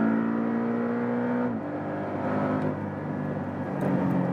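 A Porsche 718 Boxster GTS four-cylinder engine pulls hard from inside the car, a steady droning tone that drops at a gear change and then climbs again, with no talk over it.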